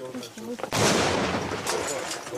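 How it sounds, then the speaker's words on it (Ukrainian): Machine gun fire in frontline combat, a loud sustained burst of shots that crashes in abruptly and carries on close by after a brief moment of voices. "Кулемет аж димить"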